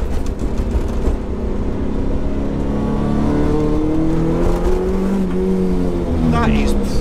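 A classic car at a Bonhams auction preview drive revs and accelerates, its engine note rising steadily and loud from inside the car, with people talking over it.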